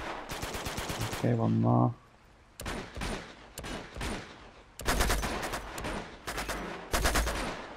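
Rapid automatic gunfire bursts in Uncharted 2, loud close volleys broken by brief pauses, with someone talking briefly between them.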